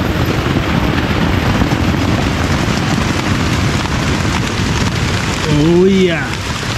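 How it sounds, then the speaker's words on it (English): Heavy rain at a beach campsite during a storm, a loud, unbroken roar of downpour drumming on the surroundings, with a brief vocal exclamation rising over it near the end. "Oh yeah. That's some heavy rain."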